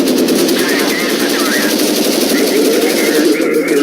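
Rapid automatic gunfire in a video game rattles steadily throughout, loud and continuous, with dense repeated shots over a constant background din.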